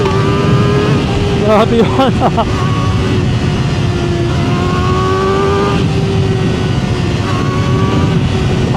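A Kawasaki ZX4RR motorcycle fitted with a 50T rear sprocket and upgraded front sprocket accelerates hard, a loud continuous engine roar with rising pitch through the gears, heard close up with wind noise and someone speaking briefly over it.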